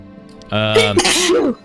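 A single loud, close sneeze bursts out partway through, rising sharply and then trailing off, heard during a tabletop role-playing game session.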